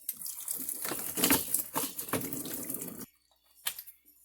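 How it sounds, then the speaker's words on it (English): Water from a PEX plumbing fitting runs and spatters in uneven bursts, loud for about three seconds, then stops, with one brief splash after a short silence. "Little drip."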